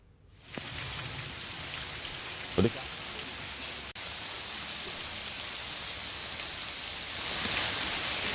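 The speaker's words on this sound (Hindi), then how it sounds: "आरा में भी मौसम का मिजाज बदला और आज तेज आंधी के बाद बारिश शुरू हो गई है।" Steady rain falling after a strong storm in Arrah, Bihar, a continuous broadband hiss that holds evenly throughout and swells slightly toward the end, with a brief low thump partway through.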